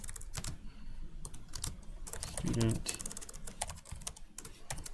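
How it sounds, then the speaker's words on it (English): Rapid clicking of a computer keyboard in a classroom setting during a C++ programming lesson, close and busy, interrupted by brief speech from people in the room. "I just need to finish typing."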